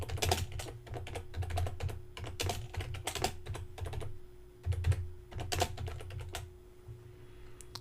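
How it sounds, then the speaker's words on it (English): Keys clatter on a computer keyboard as an address is entered, a close run of quick taps in short bursts with brief pauses, alone with no voices. "you want to type in the address of where you want the pin to show up on the map"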